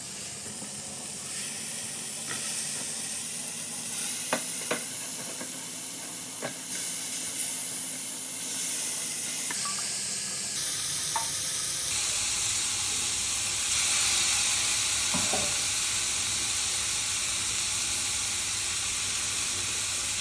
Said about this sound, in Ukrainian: Смажимо свої ребра без будь додавання будь-якої олії